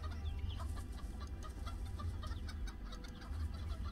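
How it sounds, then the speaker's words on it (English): Chickens cluck in the video game Runescape, a faint, busy scatter of short clucks over a low background hum, no voices. "There are actually a lot of chickens. They're multiplying"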